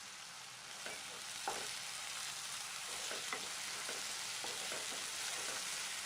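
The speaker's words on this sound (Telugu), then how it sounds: "పచ్చిమిర్చి కూడా బాగా కలిసిన తర్వాత అల్లం వెల్లుల్లి ముద్దను వేసుకొని వేపుకోవాలి." Ginger garlic paste and green chillies fry in a pan with a steady soft sizzle, punctuated by scattered scrapes and clicks of a spoon stirring, close but fairly quiet.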